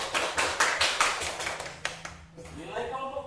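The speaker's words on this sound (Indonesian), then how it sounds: "Tepuk tangan untuk kelompok." A classroom of students applauds a group for their work, a burst of rhythmic, fairly close clapping lasting a few seconds that fades as a teacher's voice picks up.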